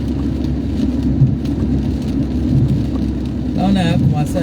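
Cold rain falls steadily outside amid gusty wind, a constant close hiss blended with low rumble, while a person talks over it throughout.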